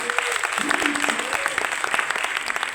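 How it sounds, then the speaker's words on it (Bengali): An audience claps for child performers at a stage event, a dense burst of applause with a voice sounding over the clapping. "স্পন্দনের শিশু শিল্পীদের জন্য একটি জোরে করতালি হবে।"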